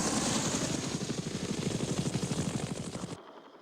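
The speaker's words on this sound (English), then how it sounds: "For the Army, the basic infantry transport helicopter was the UH-1 Huey." A UH-1 Huey military transport helicopter thumps loudly and close, its rotor beating in a fast, steady chop over a roaring engine, then the sound cuts off abruptly near the end.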